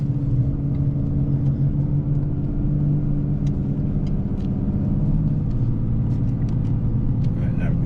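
A 2020 RAM 3500 dually HO pickup with an Aisin transmission, hauling gravel on a gooseneck trailer, gives a steady, loud, deep engine drone whose pitch shifts slightly as it pulls, continuous throughout with no clear speech.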